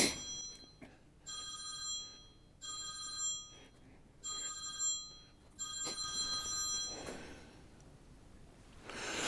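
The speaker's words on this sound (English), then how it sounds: "Let the phone ring here for a little bit." A telephone rings in a van being built, a bright electronic bell sounding in repeated bursts separated by short pauses, clear but fairly quiet.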